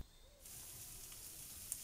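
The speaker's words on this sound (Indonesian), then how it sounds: "Kemudian ini kita masak sampai kadar airnya menyusut, tapi jangan sampai terlalu kering ya." Sausage filling for Solo-style sosis solo, seasoned with salt, mushroom stock and sugar, simmers in a pan, giving a steady soft sizzle with faint bubbling, close and even throughout with no talk.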